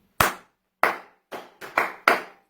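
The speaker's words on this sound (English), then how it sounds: "Now the students are going to respond back by clapping that pattern and repeat" Hands clap out a rhythm pattern, six crisp close claps in an uneven beat with a quick pair near the end, alone with no talking.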